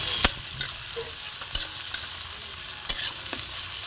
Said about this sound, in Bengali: পেঁয়াজটাকে ভাজা হচ্ছে